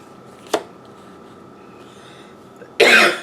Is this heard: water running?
no